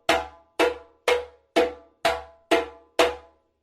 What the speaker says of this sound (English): Our slaps on djembe look and sound something like this.